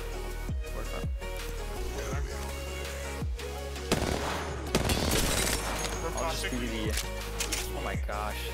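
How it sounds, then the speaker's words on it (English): Charge rifle firing in Apex Legends, a series of sharp, powerful bursts roughly every second with ringing tails, layered over busy game combat noise while players talk throughout. "he's just destroying them with the charge rifle"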